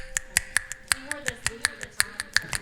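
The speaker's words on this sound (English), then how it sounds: "and then of course the snapping" Crisp finger snaps repeat in a steady rhythmic pattern, about five every second, close and clear, with faint talking in the background.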